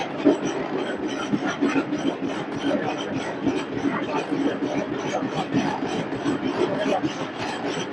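Steady rumble and rhythmic clatter of a Pakistani Business Express passenger train riding on the rails as it nears Sahiwal station, heard from inside a carriage, loud and continuous with faint voices underneath.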